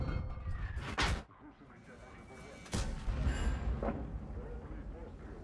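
An artillery shell strikes a tank in the World of Tanks video game. A sharp loud crack comes near one second and a second heavy boom follows near three seconds, with battle noise and muffled rumble in between.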